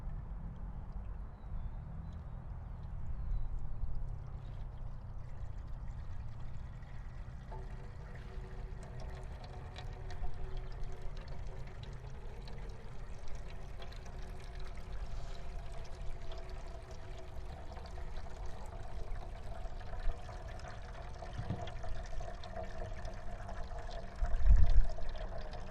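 Rainfall simulator spraying water onto soil in a demonstration, giving a steady, continuous hiss and patter of water that runs throughout at moderate level, with a faint low rumble underneath.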